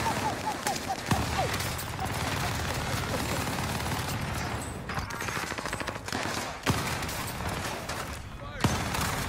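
Gunfire in the Warzone Rebirth Island video game, with several sharp shotgun-like blasts punctuating a busy, continuous stretch of shooting and rumbling combat noise, while players talk over it.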